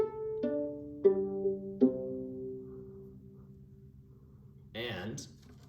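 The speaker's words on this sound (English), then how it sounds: "The viola strings, when you pluck them," Viola strings plucked three times in a row, each pizzicato note ringing and fading quietly, followed by a brief voice at the end.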